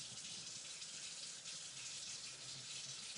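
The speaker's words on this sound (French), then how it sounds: "Je vais essayer de prendre un peu d'eau du robinet." Tap water runs steadily from a kitchen faucet, a continuous broad hiss that stays even and fairly close throughout with no talking.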